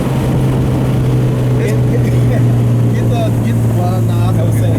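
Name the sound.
H2B-swapped Honda Civic driving and shifting through gears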